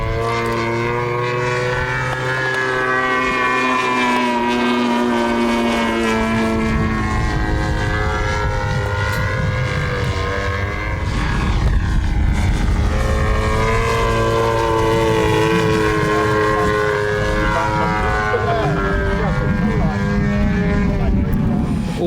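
An RC model airplane flies at a kids' fun-fly event, its engine droning with a rising and falling pitch as it passes, loud and continuous throughout.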